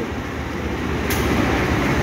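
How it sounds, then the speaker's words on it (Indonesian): Mutiara Timur train hauled by a CC201 diesel locomotive at Surabaya Pasar Turi station, a steady low rumble that swells slightly, with a brief hiss partway through, no voices. "kereta api Mutiara Timur sudah tersedia di jalur 4. Ini dia kereta api Mutiara Timur, lokomotifnya menggunakan lokomotif CC201"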